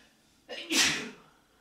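A single close sneeze: a sharp intake followed by an explosive burst that fades quickly, otherwise quiet.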